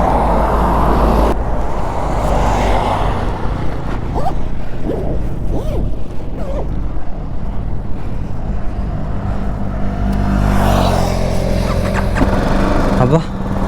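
A BMW G310GS motorcycle engine runs loud and close throughout, with a rough steady drone and a rising surge near the end as it pulls away, with a voice talking over it.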